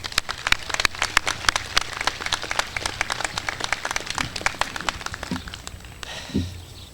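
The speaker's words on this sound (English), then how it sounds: "Please help me by thanking them with an applause." Audience applause at the Klamath Community College 2023 commencement ceremony, dense continuous clapping from a large crowd that thins out and fades toward the end.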